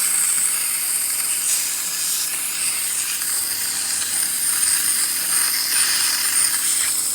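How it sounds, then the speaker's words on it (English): A steam wand on a Gaggia Classic espresso machine, just serviced, releases a steady, loud, unbroken hiss of steam that runs for several seconds with no talking. "nice steam coming out of the machine."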